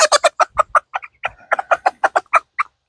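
Two-month-old barnyard mixed-breed chickens, a cross of Americana, Brahma and Barred Rock, cluck close by in a quick, uneven run of short calls with no talking.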